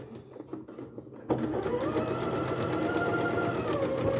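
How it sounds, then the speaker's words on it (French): Sewing machine starts after a few quiet handling noises and runs steadily, a close rapid mechanical whir and tapping while stitching a zipped padded pouch. "On redescend le tout et on continue de coudre"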